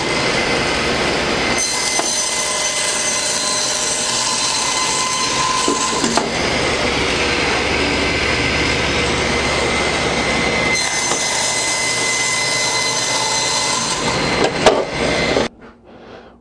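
A table saw cuts a wooden board for box parts, with a steady loud whirring blade and a rising, harsher tone as the wood passes through before the motor winds down.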